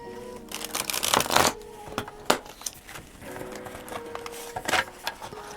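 Thin linen tarot cards being shuffled in quick riffling bursts, a soft papery flutter and snap repeated several times, close by with no talking.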